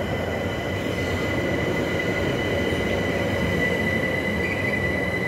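A Bombardier Class 378 Capitalstar electric multiple unit on London Overground arrives at a station platform, giving a loud, steady rumble of wheels and traction with faint high whine and squeal throughout.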